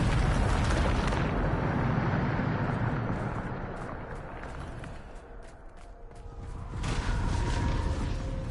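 A Bombarda explosion spell in a fantasy video game erupts in a loud, sustained roaring blast that swells, dips in the middle, then surges again, filling the whole stretch with rumbling boom and whoosh.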